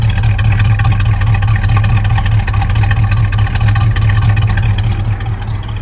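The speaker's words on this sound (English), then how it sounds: "I'll let you hear the exhaust a little bit." A 1979 Ford Ranchero idles with a smooth, steady, loud low exhaust rumble and a slight cam lope, close and continuous with no talking.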